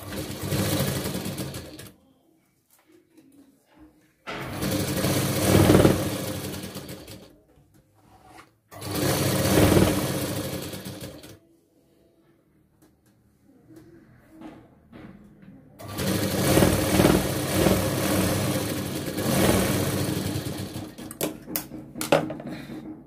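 A sewing machine stitches a folded fabric piping strip for a blouse in several loud whirring bursts, each running a few seconds, with quiet pauses and faint handling noises between runs.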